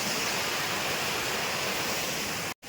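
Steady rushing water from a monsoon hillside stream below a waterfall flows without a break, a broad hiss close by, cutting out abruptly just before the end.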